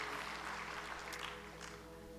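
A church congregation claps and applauds during an online worship service, a faint, steady wash of many hands clapping at a distance, with no talking over it.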